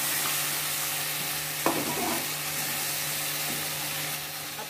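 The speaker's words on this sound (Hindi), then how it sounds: "इसको लगातार चलाते हुए पकाए जब तक इसका तेल किनारे से छूटने न लगे।" Masala stirred and fried in oil in a pan for Bengali dhokar dalna, a steady close sizzle throughout with one sharp scrape of the spoon partway through.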